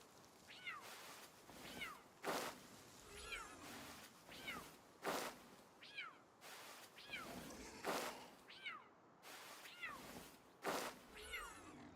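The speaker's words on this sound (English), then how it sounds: "those kitties are loud as fuck, dude" Cats meow loudly and repeatedly in a steady rhythm, each call rising sharply, roughly every one to two seconds, with no speech over them.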